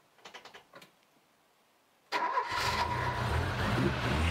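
A 1984 MK3 Ford Capri barn find cranks with a few short starter bursts, pauses, then catches and fires into a loud, steady idle that holds close by.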